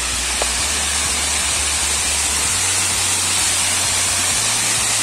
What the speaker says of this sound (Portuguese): chegou na cachoeira